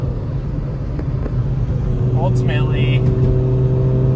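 A turbocharged Lexus IS300 accelerating, heard from inside as a loud, steady engine drone with a brief higher whine, while someone talks over it.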